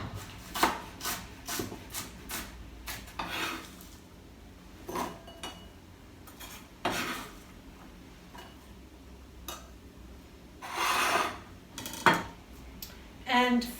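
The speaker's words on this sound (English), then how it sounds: "Chop one red onion." A red onion chopped with a knife on a cutting board: irregular crisp knocks and taps, some in quick bursts, close and clear with no talking.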